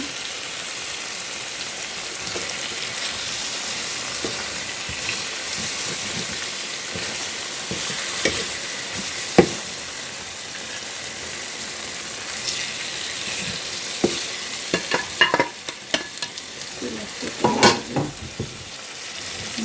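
Steady, dense sizzling of barramundi fish pieces frying with spices in a hot pan for a Bengali-style curry fills the whole stretch, with occasional clinks and scrapes of stirring near the end.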